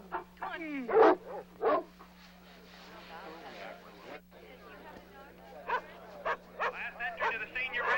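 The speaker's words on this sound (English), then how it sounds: "Steve, you better get these dogs out of here." Several dogs bark and yip in short, uneven bursts, some close and loud, others fainter, while people talk and call over them throughout.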